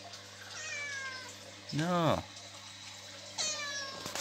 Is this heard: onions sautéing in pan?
no